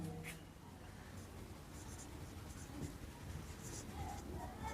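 Marker or chalk writing on a board during a maths lesson, faint scratchy strokes coming in short bursts, with a voice speaking quietly in the background.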